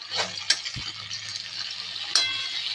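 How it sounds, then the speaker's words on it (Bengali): Vegetables fry in a pan in a home kitchen, a close, steady sizzle broken by a few sharp metallic clinks and scrapes as a spatula stirs them. "সবজি ভাজা হচ্ছে"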